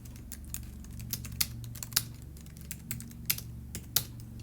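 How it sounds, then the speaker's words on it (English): Typing on an external keyboard paired with an iPad, a quiet run of irregular key clicks with a few louder taps, close and without talk. "I'm using a keyboard that I purchased for my iPad."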